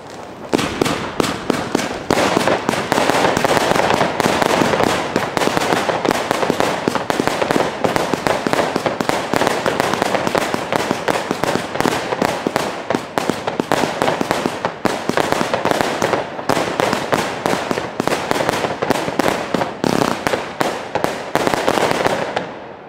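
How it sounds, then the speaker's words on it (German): An Aethra Z-1 fan cake battery fires 70 shots of 20 mm brocade effects in a rapid, continuous barrage of sharp cracks and bursts. It stays loud and unbroken for over twenty seconds with no voices. "um eine 70 Schuss Fächerbatterie im Kaliber 20 mm."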